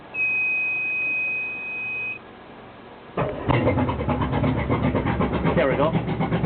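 A boat outboard motor fitted with a muffler starts after a steady electronic beep, then runs with a loud, close, throbbing rumble that carries on to the end.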